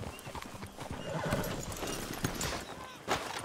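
Horses' hooves clip-clop on the ground in the video game Red Dead Redemption 2, a busy, moderately quiet patter with an occasional whinny, mixed with background speech.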